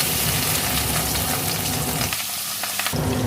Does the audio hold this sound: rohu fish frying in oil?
yes